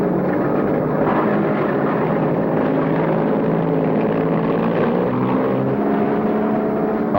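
Piston engines of WWII fighter aircraft taking off to defend Midway island, a steady, loud, dense droning roar that continues without a break, with no talk over it.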